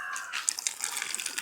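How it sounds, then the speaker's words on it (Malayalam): Water draining from a sink in a home, a faint, short trickle and gurgle with a few soft drips, heard alone. "ഇതിൽ തന്നെ വെള്ളം പോവുകയും ചെയ്യും."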